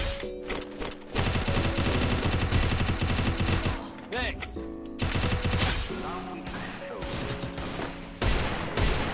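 Rapid bursts of automatic gunfire in a mobile shooter video game come as loud, dense volleys separated by brief pauses, with speech mixed in.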